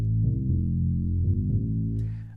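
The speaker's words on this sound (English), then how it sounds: "if I play it back as 16th notes, it's going to sound like this." An OP-1 synthesizer loops a dense, low-pitched sequence of rapid 16th notes, steady and loud throughout, with a brief brighter texture entering near the end.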